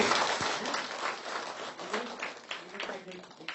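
A crowd at a spiritual gathering in Nepal claps together, moderately loud clapping that swells and fades unevenly, with voices talking over it.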